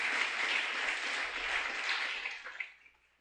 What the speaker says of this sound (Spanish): Dale ese aplauso a Jesucristo el Señor, que Él se lo merece